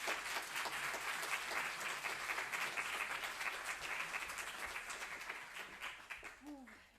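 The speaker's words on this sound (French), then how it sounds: "Je vous demande d'applaudir Madame Loconto, s'il vous plaît." An audience at a talk on sustainable food systems applauds a speaker with steady, even clapping from many hands, heard soft and somewhat distant and thinning out near the end as a voice begins.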